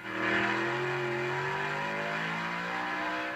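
A 1970 Plymouth Cuda drag racer with a 440 engine revs at Portland International Raceway, giving a loud, continuous engine roar whose pitch climbs steadily across a few seconds.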